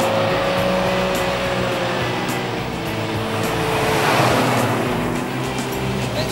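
A 1972 car laps the Knockhill circuit, its engine a steady, loud drone that shifts pitch slightly through the corners and chicane, with no voices.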